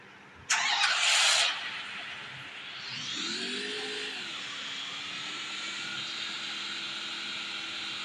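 A motorbike engine in the Free Fire video game starts with a sharp burst, then settles into a steady droning hum that rises briefly in pitch and holds on, with no talking.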